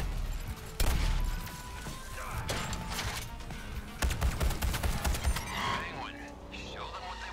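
Heavy gunfire in the superhero shooter game Suicide Squad: Kill the Justice League, rapid bursts and volleys of shots over rumbling action, loud and dense with several crashing impacts.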